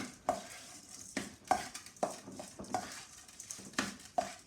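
A spoon stirs salt through soft homemade Roman-style cheese in a bowl, making a series of short scraping and clinking strokes, about six distinct knocks spread over a few seconds, close and fairly quiet.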